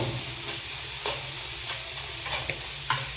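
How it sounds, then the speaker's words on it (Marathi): Onions and ground garlic chutney are sautéed in a pan for methi bhaji, giving a steady sizzle with a spatula scraping and tapping at intervals, close and without speech. "हे सुद्धा छान असं या कांद्यामध्ये परतून घ्यायचं आहे"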